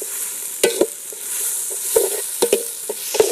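Turmeric powder being stirred into frying masala for a Kerala-style chicken curry, a steady sizzle broken by several sharp scrapes and clacks of a spoon against the pan.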